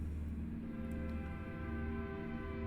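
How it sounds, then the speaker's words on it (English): A big train passing in American Truck Simulator, a steady droning rumble with sustained tonal hum, continuous and moderately loud without talk. "This is a big train there."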